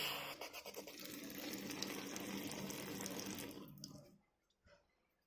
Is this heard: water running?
yes